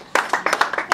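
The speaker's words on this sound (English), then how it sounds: "Round of applause for that." A few people at an Ika cultural gathering in Agbor clap close by, quick and bunched together in a short, lively burst of about six or seven claps.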